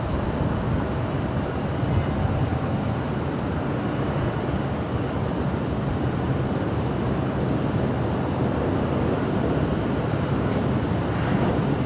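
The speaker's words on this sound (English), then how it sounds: "And that is KNBC's helicopter" A KNBC news helicopter flying near Los Angeles airport, a constant, dense broadband rumble of rotor and engine that stays even and fairly loud the whole time.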